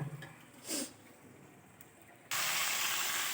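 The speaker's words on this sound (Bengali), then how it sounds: "এবার টমেটোগুলো আমি কড়াইয়ের মধ্যে দিয়ে দেব।" Tomatoes drop into hot mustard-seed-tempered oil in a wok: after quiet rustling and a brief clatter, a loud, sudden sizzle erupts and holds steady to the end.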